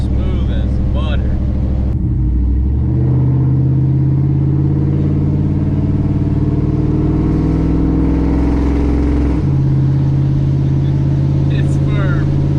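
Car with an upgraded transmission accelerating hard, the engine droning and climbing in pitch, then dropping sharply at a gear shift before pulling again, heard from inside the cabin, loud and steady.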